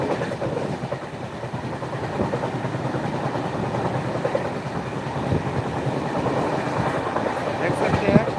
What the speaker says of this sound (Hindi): देख सकते हैं ट्रेन का जो रफ्तार है, और से भी अधिक के स्पीड में है।